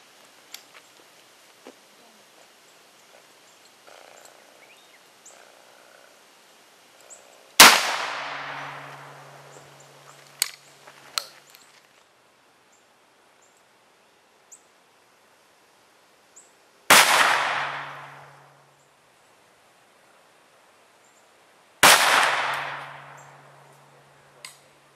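Three loud outdoor shotgun blasts firing Remington and Hornady slugs, each a sharp crack followed by a long fading echo, spaced several seconds apart with quiet between and faint distant clinks.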